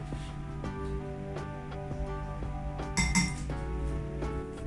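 Spoon clinking and scraping in a bowl as a lemongrass chicken wing marinade with sugar is mixed, a steady quiet run of small metallic taps with a louder cluster in the middle, no talking.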